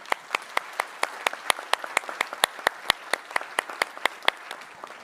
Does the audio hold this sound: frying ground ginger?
no